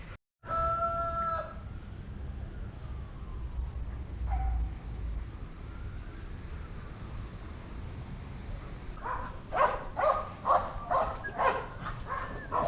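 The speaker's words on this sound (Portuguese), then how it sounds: "não parou de latir um segundo desde que a gente veio pra cá" A dog barking in a backyard at home, a quick series of sharp barks near the end after a rooster crows twice earlier, set against a steady outdoor background.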